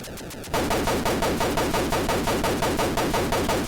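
Shots fired in the Atari 2600 game Chopper Command: after a brief buzzing intro, loud, harsh electronic bursts repeat in a rapid, even rhythm, sounding like a continuous volley of gunfire.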